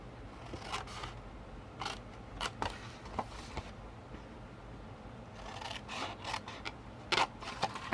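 Blades cut a cardboard box along its score marks, giving repeated short snips and scrapes at uneven intervals, close by over a low background hum.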